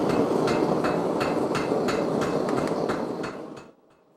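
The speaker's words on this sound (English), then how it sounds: "My power hammer, it takes care of all the heavy work." A power hammer forging metal pounds in a fast, steady rhythm of loud, heavy strikes over a dense mechanical roar, then winds down and stops.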